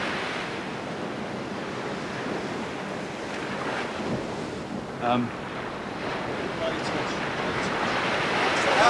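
Waves and wind roll steadily along a shore, a broad continuous surf wash with wind buffeting the microphone and a brief louder gust or splash midway.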